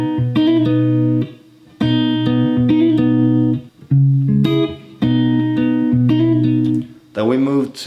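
A fast, bright acoustic guitar riff repeated in quick phrases with hammered and plucked notes, loud and close, briefly pausing between passages.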